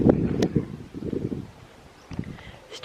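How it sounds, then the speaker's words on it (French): Wind buffeting a microphone outdoors on a farm, heavy low rumbling gusts that swell and drop in bursts, with brief faint voice fragments under the roar. "Si tu peux arrêter le vent, ce serait bien."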